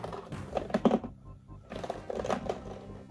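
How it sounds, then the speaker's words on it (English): A small loose piece rattles inside a sealed NECA sci-fi blind box figure package, a cluster of light clattering knocks, a pause, then another burst of rattling, close and fairly quiet. "Something is rattling around in here, which is always lovely."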